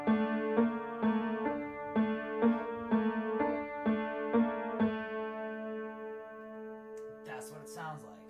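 Solo piano plays the CM Punk WWE theme with its low bass part added, repeated sustained chords in a steady rhythm, close and clear; a brief burst of speech follows at the end.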